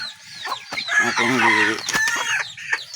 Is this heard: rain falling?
no